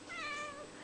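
A cat gives a single short, rising-and-falling meow, close and fairly faint, with no voices over it.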